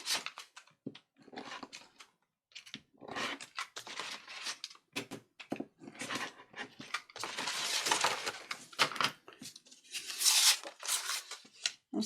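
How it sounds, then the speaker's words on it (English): Paper being cut for a handmade bee journal, close and intermittent scissor snips mixed with crinkling and rustling of sheets, with a longer stretch of heavier rustling near the end. "Right, let's just cut that."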